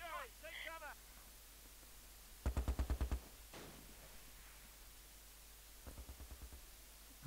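Two short bursts of rapid automatic gunfire in the WWII tactics game Close Combat, a longer burst near the middle and a quieter one toward the end, over faint static hiss, with a brief voice at the start.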